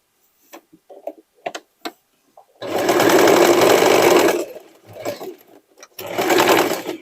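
A sewing machine stitches a dress of sweatshirt and denim scraps in two loud, close bursts of rapid whirring, with light clicks and handling noises before and between.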